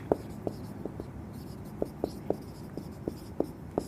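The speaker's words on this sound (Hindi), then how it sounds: "मैं यहाँ लिख देता हूँ" Chalk tapping and scratching on a board as equations are written, a series of short, distinct strokes at an irregular rhythm, close and fairly quiet over a faint room hiss.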